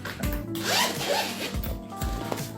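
A zipper on a Marienthal saxophone case is pulled open in several close, rasping strokes with brief pauses between pulls.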